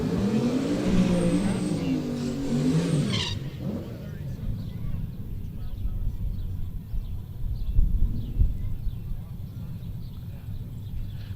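Drag cars, a 1965 Mercury Comet and a 2017 Camaro, launch at a dragstrip; a commentator talks first, then a low, rumbling engine roar builds and surges toward the end.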